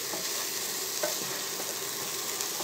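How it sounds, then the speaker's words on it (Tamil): Chilli powder and salt sautéing over a high flame for egg fried rice, a steady close hiss of frying with faint scrapes of stirring throughout. "நம்ம நல்லா ஹை ஃப்ளேமில் வதக்கிக்கலாம்."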